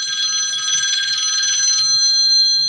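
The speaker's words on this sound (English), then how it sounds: "the bat phone is ringing" Close and loud, a telephone rings with a continuous high, trilling electronic bell that sounds throughout, with faint low background noise beneath.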